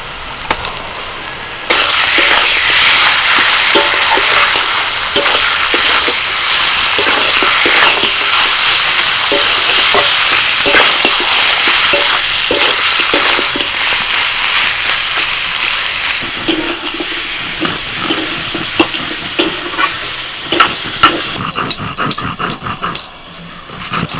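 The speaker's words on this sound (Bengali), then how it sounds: "এবার মশলা মাখানো মাটনটা দিয়ে দিচ্ছি।" Loud, continuous sizzling of spice-marinated mutton frying with half-fried onions in a hot pan, with scraping and stirring sounds; a dog growls and barks at times.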